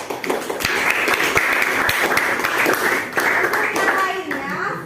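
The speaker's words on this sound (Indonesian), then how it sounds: "Tepuk tangan untuk 3 orang itu." Children in a classroom clap their hands together, a brisk round of many small hands with sharp individual smacks, mixed with children's voices chattering over it throughout.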